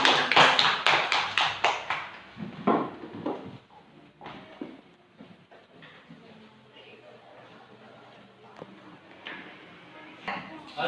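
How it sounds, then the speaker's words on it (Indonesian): Classroom children clap their hands together in a burst of loud, rapid claps for about two seconds, then scattered taps and soft room murmur continue, with a few quieter claps near the end. "tepuk tangan dulu untuk semua dulu teman-temannya dulu"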